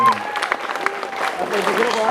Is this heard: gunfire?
no